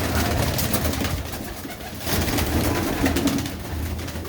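A Makhiali pigeon coos in low, repeated throaty calls, close by, against a fairly loud background of rustle and noise.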